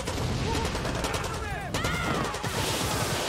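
Rapid gunfire from a weapon in Far Cry 6, a dense, loud stream of shots filling the moment, with someone talking over it.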